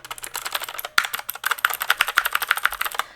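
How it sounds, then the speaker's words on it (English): Rapid typing on a Drevo V2 mechanical keyboard, a dense run of crisp close keystroke clicks with an uneven rhythm and a slight pause near one second. "this is my old keyboard. This is a Drevo V2."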